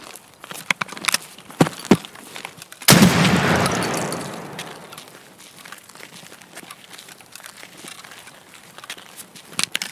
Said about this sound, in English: Ah, shotguns. They're not the greatest, but man, are they fun.